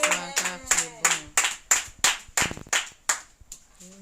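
Church congregation clapping in praise during a Sunday service, with about a dozen sharp, evenly spaced claps in a steady rhythm, close and clear, and brief singing or voices at the start and end.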